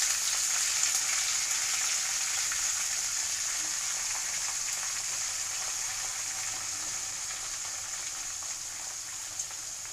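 Cleaned amaranth leaves fry in a pan over lightly browned tempering, producing an even, moderate sizzle that holds steady throughout without voices.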